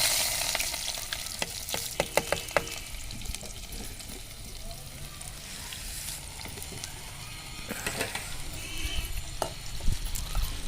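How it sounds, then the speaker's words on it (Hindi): Onion frying in a hot cumin tempering for a village potato and cauliflower dish, a steady close sizzle and crackle with scattered sharp pops and stirring, and faint voices now and then. "तो लीजिए तड़का लगा दिया है जीरे का, और सोनम जी अब डाल रही हैं आलू और गोभी"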